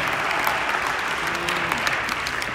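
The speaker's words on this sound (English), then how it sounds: "Just give him a round of applause." An audience at a worship gathering breaks into warm, sustained applause, a dense wash of clapping that holds steady for a couple of seconds.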